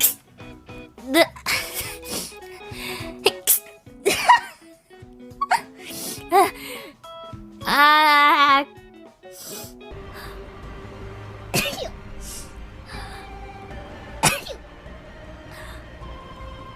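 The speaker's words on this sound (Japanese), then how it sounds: "くしゃみ3連続。" A female streamer sneezes three times in a row, each a short sharp burst after a stretch of vocal sounds and exclamations.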